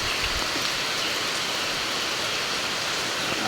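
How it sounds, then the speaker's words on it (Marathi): Steady rain hiss fills the whole stretch, a dense even wash of falling water with no voices. "पाऊस सुरू झाला आहे पावसातच"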